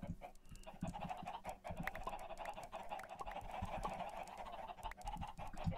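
Chickens in Minecraft cluck softly and repeatedly over a steady low background. No one speaks.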